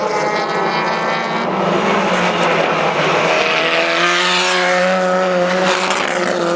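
A race car in the Madgwick Cup at Goodwood roars past, its engine note loud and continuous, rising and shifting in pitch as it drives through, with no voices over it.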